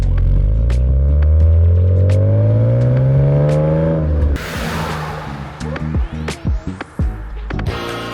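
A 1999 BMW E36 M3 engine revs hard through rising gears, loud and close, its pitch climbing steadily before a gear change and then gritty, uneven engine and road noise.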